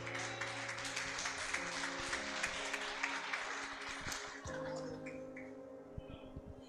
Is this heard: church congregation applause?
yes